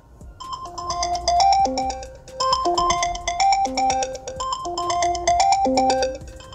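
An iPhone ringtone plays loudly through the phone's own speaker during a speaker test, a bright repeating melodic chime pattern cycling several times with short pauses, no voices.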